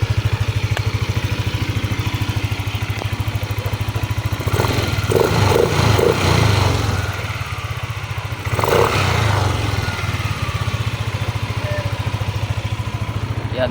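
An overhauled Yamaha Aerox 155 scooter engine runs steadily, idling with a rattly throb and a couple of brief throttle blips midway.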